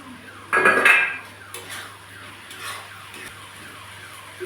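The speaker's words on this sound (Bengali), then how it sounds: "এবার আমি চিংড়ি মাছগুলো দিয়ে দেবো।" Prawns dropped into a cooking pot with a loud metallic clatter and hiss at the start, followed by fainter scrapes and clinks over a low steady hum.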